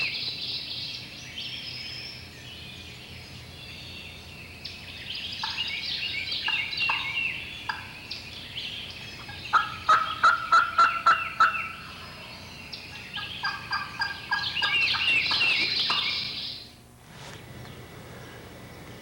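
A wild turkey gobbles during a spring hunt, rattling bursts of rapid notes repeating over several seconds at moderate distance, with no talk.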